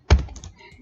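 A single sharp keystroke clack on a computer keyboard, followed by a brief faint patter of lighter key taps, close and with no voice.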